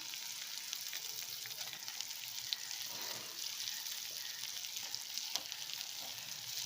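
Cooked, crumbled sweet potato stir-frying in a pan, a faint but steady sizzle with light, scattered spatula clicks and no talking.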